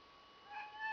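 A cat gives a single short meow that rises toward the end, close and fairly clear over a quiet room.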